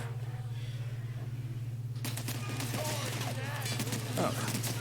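Gunfire in The Outer Worlds, a quiet stretch that breaks into a dense, rattling burst of shots with clanking mechanical sounds over a constant low hum.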